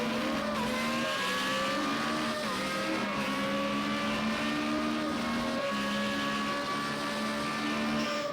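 Formula Renault race car at speed on the Zhuhai circuit as it locks its brakes into a corner, a loud continuous engine drone with shifting pitch and a faint tyre squeal blended in, no talk.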